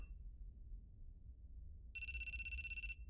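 A cell phone rings in a visual novel game, a loud electronic trill of rapid repeated pulses that starts partway through and lasts about a second over a low background rumble.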